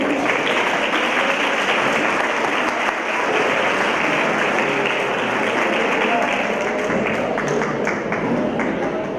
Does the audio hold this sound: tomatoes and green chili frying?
no